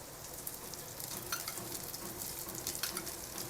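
Surnache kabab, yam kebabs, shallow-frying in oil in a pan over medium heat, giving a steady close crackling sizzle with faint spitting pops throughout and no talking.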